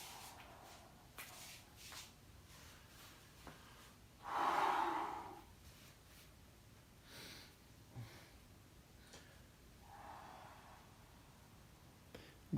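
Slow breathing during stretching exercises, drawing in through the nose and blowing out through the mouth, gives quiet intermittent airy breaths with one louder, longer exhale near the middle, close and without speech.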